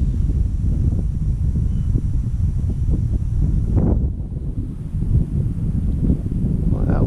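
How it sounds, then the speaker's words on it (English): Strong outdoor wind roars steadily and close against the microphone, with continuous buffeting and rustling, briefly easing midway before returning at full strength. "Boy, that wind, man."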